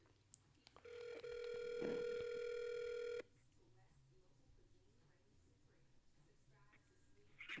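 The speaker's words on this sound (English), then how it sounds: "I need to get Marcel on the phone." A phone call's ringing tone sounds from about one to three seconds as a loud, steady electronic tone, then cuts off abruptly, leaving quiet room noise.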